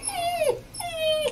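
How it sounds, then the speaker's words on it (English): A young German Shorthaired Pointer puppy whimpers in two high, drawn-out whines that slide downward in pitch. Each cry is close and clear, with a short pause between them, and the setting is outdoors on a South Dakota pheasant hunt. "One of our guys here, Matt Schrank, just bought a new German short hair last night"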